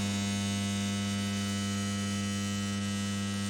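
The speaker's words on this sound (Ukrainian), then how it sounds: "Вмикаємо тен, конвекцію." A smoker's heating element and convection fan running after being switched on produce a steady, even electrical hum with no other sounds and no voices.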